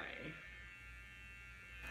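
A Manscaped electric trimmer shaving fingers gives off a faint, steady electric buzz that runs close by throughout the short moment.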